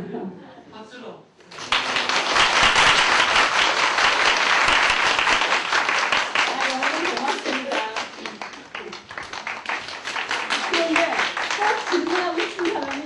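Sustained audience applause at a lecture or talk event, many hands clapping densely and loudly after a brief quiet start, continuing steadily for over ten seconds with scattered individual claps standing out.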